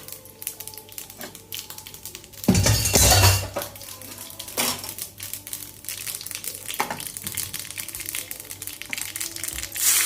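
A kadai pan is moved off the heat with a clattering burst of metal scraping and clinking, followed by scattered softer clinks over a low steady kitchen hum.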